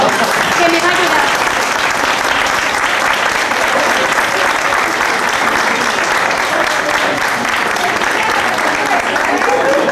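An audience at a 1993 social dinner gives sustained applause, a loud, dense, even wash of many hands clapping close by without letup, with some talk mixed underneath.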